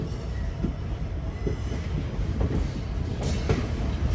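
Jammu Tavi Express train rolling along the rails near Jodhpur, a steady close rumble of the rake with rhythmic wheel clicks and occasional sharper knocks, no voices.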